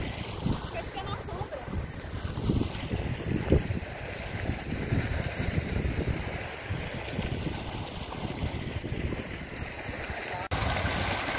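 Hot-spring waterfall Cachoeira do Carioca in Pedro Lessa, Minas Gerais, where warm water flows out of the rocks, giving a steady broadband rush close to the microphone throughout, with some wind noise and a voice over it.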